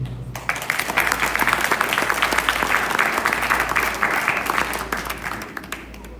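An audience at a design event applauds the designers, a sustained wave of many hands clapping in a hall, loud and even for several seconds before fading.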